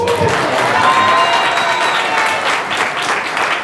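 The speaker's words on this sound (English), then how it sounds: "that definitely deserves a round of applause" A small audience claps and murmurs approval, a brief burst of applause swelling and then thinning out, fairly close, with some voices and whoops mixed in.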